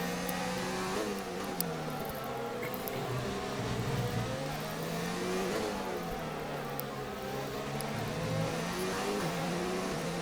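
Formula 1 race car engines in a racing video game drone steadily and loudly, with a continuous high revving whine that shifts pitch through gear changes over about ten seconds.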